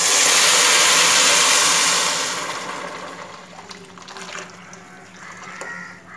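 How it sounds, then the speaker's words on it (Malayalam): Hot water poured into a pot of rice frying for dum biryani: a loud, rushing splash and sizzle at first that fades after about two seconds into softer bubbling and clinks. "ഇനി തീ അങ്ങ് കുറച്ചതിന് ശേഷം നല്ല ചൂടുവെള്ളം ഒഴിച്ചു കൊടുക്കുക."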